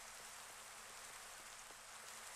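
Steady Minecraft rain patters evenly on surfaces, a continuous soft hiss with faint scattered drops, quiet and without talk.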